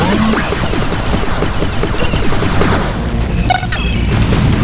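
Booming cannon blasts and crashing impacts from a real-time strategy video game overlap in a dense, loud barrage, with a brief high tone ringing out near the end.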